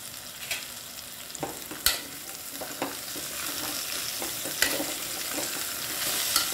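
Chickpeas frying with coriander powder are stirred in a pan, giving a continuous sizzle broken by repeated scraping and clinking strokes of a spoon at an irregular pace.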